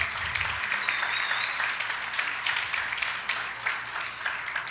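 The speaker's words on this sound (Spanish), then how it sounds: "Vamos a dar un aplauso fuerte a nuestro Padre." A church congregation breaks into loud, steady applause for their pastor, a thick continuous roar of clapping that holds evenly throughout with a faint voice in the background.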